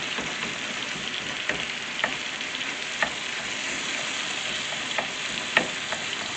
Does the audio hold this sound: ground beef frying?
yes